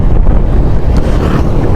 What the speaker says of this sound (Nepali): आहा कस्तो चिसो हावा चलेको यार